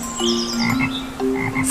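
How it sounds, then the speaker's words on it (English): A frog croaks in a rhythmic series of harsh, pulsing calls, loud and close, with no voices present. "frog,"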